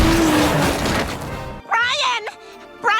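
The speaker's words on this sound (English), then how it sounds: "A speeding car heading straight for Brian." A cartoon car roars in with a loud, harsh rushing crash that cuts off abruptly, followed by a few sharp, rising yelping cries as the animated dog is struck.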